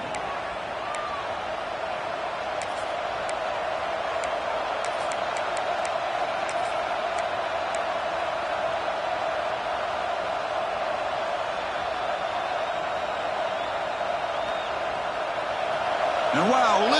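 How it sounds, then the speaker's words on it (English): A steady roar of a large stadium crowd fills the whole stretch, with a sustained tone and occasional sharp clacks and whistles, swelling slightly at the end. "listen to this crowd noise. This stadium is vibrating."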